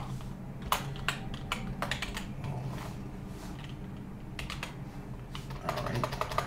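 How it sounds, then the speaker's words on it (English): Typing on a computer keyboard: a steady run of quick, close key clicks in uneven bursts with short pauses, over low background hum. "Let's just type it."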